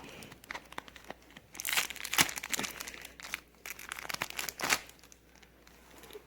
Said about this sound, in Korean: 오늘 제가 이 울트라 문 팩을 개봉하지 않고 한 팩 사왔는데 한번 뜯어볼게요